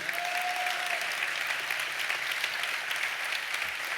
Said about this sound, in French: Vous attendez naturellement des applaudissements